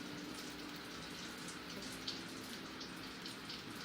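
Water is flicked onto a hot dosa griddle, giving a soft, faint, steady hiss and sizzle with a light spattering texture.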